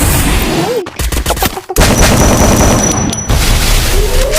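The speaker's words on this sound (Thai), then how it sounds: "จังหวะนี้มีคนยิงข้างหลังข่อยด้วย" Loud, dense bursts of video game gunfire in Free Fire crackle and boom in rapid succession, with brief gaps between volleys and a steady noisy backdrop.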